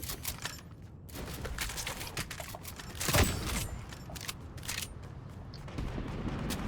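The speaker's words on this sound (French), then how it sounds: "Ah, ça tire." Gunfire in the Fortnite video game: rapid bursts of shots crackle against a busy game soundscape, with one louder blast near the middle and scattered quieter volleys around it.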